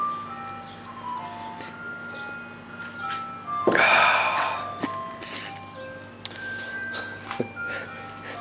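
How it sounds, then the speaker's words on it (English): An ice cream truck jingle plays faintly from the distance in a residential neighborhood, thin melodic tones drifting under a brief burst of rustling and a few nearby taps. "waiting for the ice cream truck"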